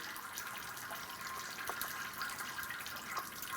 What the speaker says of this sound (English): Once you've let your radiator drain and come down to a very slow drip